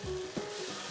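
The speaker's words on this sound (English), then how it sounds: "diced tomatoes are nicely sweating in" Diced tomatoes sizzle softly in a pan, a short, steady frying hiss with a brief stirring scrape, close and alone.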